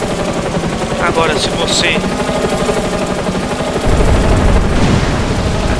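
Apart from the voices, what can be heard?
gunfire from enemies shooting in GTA San Andreas video game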